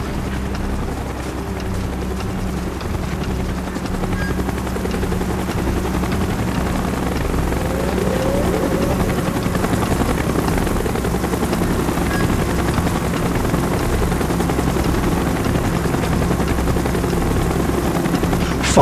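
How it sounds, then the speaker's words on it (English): A helicopter in Call of Duty: Black Ops drones steadily as it approaches, its deep rotor thrum and engine whine holding loud and close with no talking. "Chopper's inbound! Move it!"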